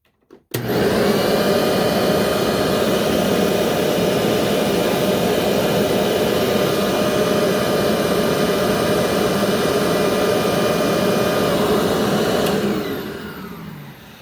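A Hoover Windtunnel self-propelled vacuum cleaner runs with airflow through its hose, starting abruptly into a loud, steady roaring whine that holds evenly before winding down at the end.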